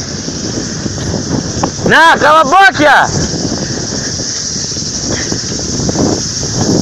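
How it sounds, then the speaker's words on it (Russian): Wind buffets the microphone steadily while cycling on a long road ride in Greece between Kiato and Nafplio, a constant rushing roar with a voice talking over it. "Приехали, блин, ветер подул."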